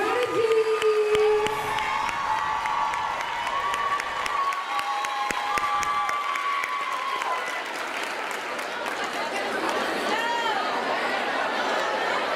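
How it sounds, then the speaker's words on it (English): Audience at an International Day of the Girl event clapping and cheering, sustained applause with crowd chatter and shouts, a few voices calling out above the clapping. "Everybody start clapping"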